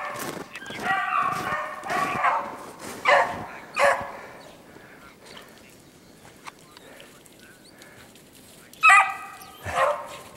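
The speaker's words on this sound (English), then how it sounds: "dog coming right past me." Hunting dogs trailing a hare near a logging road, several excited barks and yelps in short bursts, some close and some farther off, over rustling outdoor background.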